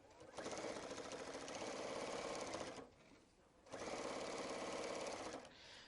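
A sewing machine with a dual feed foot stitches binding onto a quilt panel in two steady, rapid runs separated by a short pause, close but fairly quiet.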